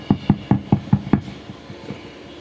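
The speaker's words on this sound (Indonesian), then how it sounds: "Kita getok bunyi aman ini ya" Six sharp knocks on a hollow wooden Fender guitar body fitted with a Fishman Presys preamp, in a quick even rhythm, close and clear, followed by a few fainter taps.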